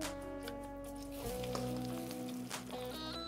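Breaded cassava burger patty frying in hot oil, giving a steady close sizzle and crackle under some background tones, with no talk.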